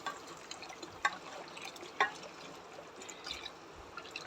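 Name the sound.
hot water poured into amti curry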